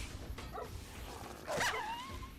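A single dog bark or yelp in the Fallout: New Vegas video game, sharp and fairly close, rising briefly over low background game ambience.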